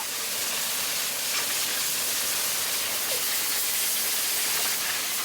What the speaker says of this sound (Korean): 강한 바람이 나오는 에어건으로 양파 껍질부터 벗기는 것이 작업의 첫 단계입니다